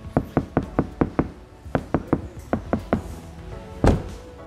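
Door of a 2010 Toyota Fortuner being shut repeatedly, a rapid series of about fifteen sharp knocking thuds in irregular bursts, ending with one heavier, louder slam.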